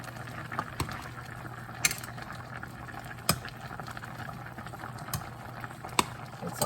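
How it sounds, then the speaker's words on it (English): Adobo chicken simmering in a pot, a low steady bubbling hum with faint liquid pops and occasional sharp clicks of a utensil against the pot. "Now the chicken's been simmering for 8 minutes now"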